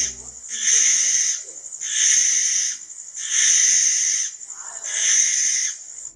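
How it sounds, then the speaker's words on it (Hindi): Barn owl giving four drawn-out rasping screeches, each about a second long and evenly spaced, close and loud against a quiet background. "बारनाउल एक रहस्यमयी और रात में सक्रिय रहने वाला उल्लू है"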